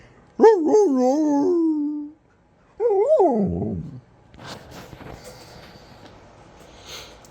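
A dog lets out two long, whining howls nearby, each rising then falling, followed by quieter rustling and shuffling.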